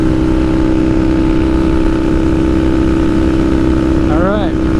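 A Kawasaki KZ750 Scrambler motorcycle riding at highway speed, its engine droning steadily and loudly under heavy wind rush, with a brief whistling chirp near the end.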